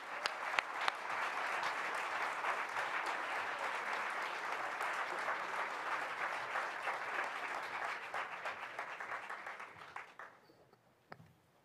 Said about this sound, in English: We can go ahead and applaud now to welcome our candidates.